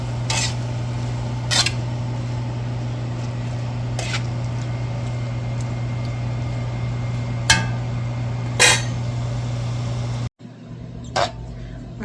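Shrimp stir fry with sauce cooks in a pan, a steady sizzle over a constant hum, broken by a few sharp clinks and scrapes as it is stirred, then a sudden cut to quieter room sound.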